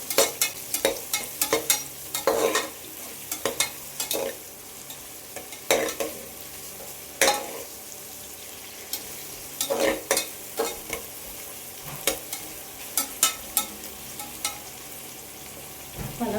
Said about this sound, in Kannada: ಗೋಲ್ಡನ್ ಬ್ರೌನ್ ಬರೋವರೆಗೂ ಫ್ರೈ ಮಾಡ್ಕೊಳ್ಳೋಣ.